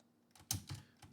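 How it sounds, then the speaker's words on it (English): A few typewriter keys struck firmly one at a time, each a sharp mechanical clack with a spaced, uneven rhythm, close and fairly quiet, with no talking. "when you're actually typing on a typewriter"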